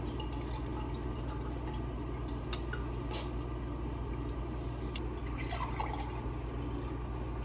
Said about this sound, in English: Form this butter into a ball and squeeze out as much buttermilk as I can.